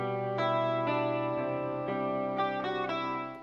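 An electric guitar plays through a Line 6 Helix Native 12-string effect with the Leslie removed, ringing shimmering chords struck in a steady rhythm every half second or so, loud and close with no voice.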